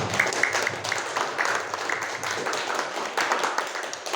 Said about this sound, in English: Applause for all of us.